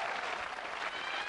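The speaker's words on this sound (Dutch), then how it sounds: "En u mag misschien zo wel eens een applaus geven." Brief burst of TV studio audience applause on a 1996 Flemish game show, dense steady clapping throughout at moderate loudness with no talk over it.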